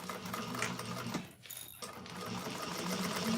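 A sewing machine runs close up, backstitching along the bottom seam of a bag lining, with a steady mechanical whir that briefly slows and pauses before running on.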